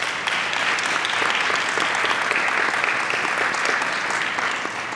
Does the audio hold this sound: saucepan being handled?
no